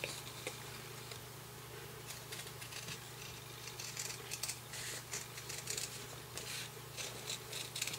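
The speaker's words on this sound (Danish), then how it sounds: "Så klipper jeg cirklerne ud." Scissors snip out circles of Vliesofix fusible web at close range, a quiet run of crisp cuts and rustles that grows busier toward the end, with no speech.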